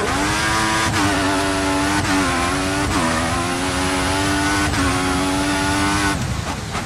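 Formula 1 race car engine from the F1 2014 racing game, a loud continuous high-pitched whine with rising revs and sharp drops at each gear shift, repeating several times without pause.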